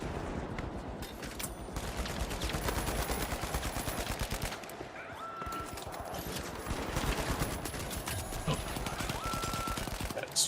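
Dense rapid automatic turret gunfire in the online shooter The Finals, loud and continuous throughout with a brief dip midway, while a voice talks over it.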